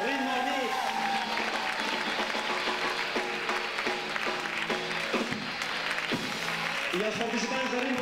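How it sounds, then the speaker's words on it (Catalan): Audience at a Santa Cecilia concert applauding a delegation from the United Kingdom, steady clapping mixed with crowd voices and talk running through it. "Un aplaudiment pel Regne Unit!"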